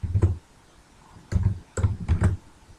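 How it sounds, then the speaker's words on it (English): Typing on a computer keyboard, a few short bursts of muffled key clicks separated by brief pauses, close and fairly quiet with no talk. "I'm going to type in"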